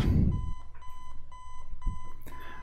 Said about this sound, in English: Oh man, I hate that alarm.